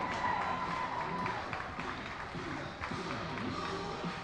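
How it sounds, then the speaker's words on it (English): Crowd at a Mifflin high school baseball game applauding the varsity team, a moderate wash of clapping and light cheering spread over the whole stretch, somewhat distant and diffuse. "How about a round of applause for the Mifflin varsity baseball team?"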